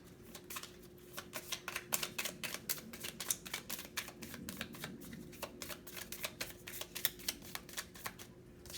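Tarot cards being shuffled by hand: a quiet, close run of rapid papery riffles and flicks in an uneven rhythm, continuing for several seconds with no talking.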